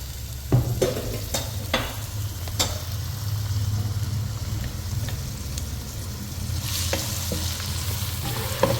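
Chopped onion with ginger and garlic fries in a pan, a continuous close sizzle broken by several sharp scraping stirs of a spatula and a low steady hum underneath.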